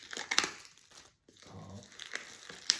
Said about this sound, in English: then you can just easily rip that plastic